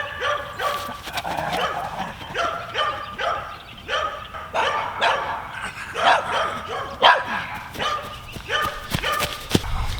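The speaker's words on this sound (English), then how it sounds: "Literally dogs barking in the yard next to me, in the yard after that, and then the yard across this way as well." Several dogs bark repeatedly from neighbouring backyards, a steady overlapping chorus of barks and yips at mid distance, moderately loud and continuing throughout.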